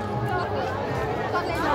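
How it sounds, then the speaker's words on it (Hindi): A large, dense crowd at the Geeta Jayanti fair by Brahma Sarovar in Kurukshetra, heard as a continuous babble of many overlapping voices with no single speaker standing out. "आज भीड़ बहुत है"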